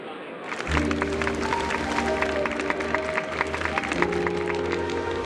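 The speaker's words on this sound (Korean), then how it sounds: "알팔파 가문 가주 오티 알팔파 씨에게도 감사의 뜻으로 힘찬 박수를 보내주세요" A crowd applauds at a festival in the video game Honkai: Star Rail, a steady wash of clapping running under bright, layered music throughout.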